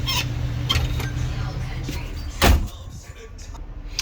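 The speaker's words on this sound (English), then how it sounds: "I'm going to try to close this door behind me" The entry door of a 2022 Tiffin Allegro Bus 40IP motorhome shuts with a single solid thump and brief rattle, close by, amid low background hum and some talking.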